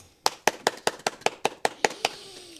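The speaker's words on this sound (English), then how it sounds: "Don't applaud me just yet" Nine or ten sharp, evenly spaced claps from a single person, close and fairly loud, settling into a faint tail at the end with a low voice just audible.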